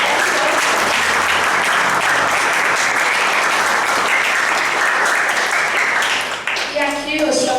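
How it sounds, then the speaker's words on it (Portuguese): A church congregation applauds loudly and steadily in a dense, sustained wash of clapping that thins out near the end as voices come in. "Palmas para Jesus."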